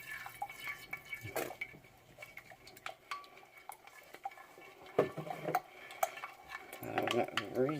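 Butterfly pea flower slime mixture stirred in a bowl, quiet scraping and tapping of a utensil against the sides in irregular bursts, with wet squelching growing busier toward the end.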